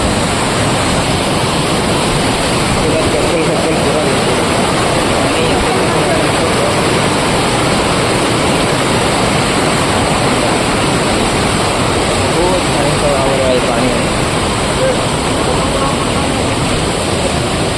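Amboli waterfall pouring down with high-pressure water, a loud, dense, unbroken roar filling the scene close by, with faint voices barely emerging beneath it.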